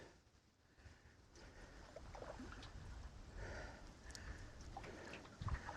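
Lightweight aluminum canoe being paddled on open water, soft splashing strokes and low wind rumble building gradually over several seconds, with a brief louder knock near the end.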